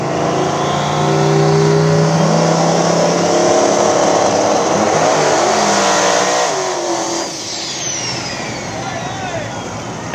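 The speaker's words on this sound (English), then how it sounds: "So first pair coming up, Steven Everson here on the inside lane, taking on Robbie Carroll on the outside" Small tire drag race cars launch hard off the starting line at a drag strip, a loud roaring engine blast that fades as they pull away down the track, with crowd noise and talk underneath.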